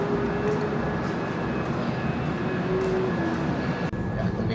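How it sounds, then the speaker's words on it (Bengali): Saraighat Express running, heard from inside an AC 2-tier coach: a steady, loud rolling rumble and hiss of the carriage fills the whole stretch without letup. "আমাদের ট্রেন 708 কিলোমিটার ক্রস করে নিউ আলিপুরদুয়ারে ঢুকলো।"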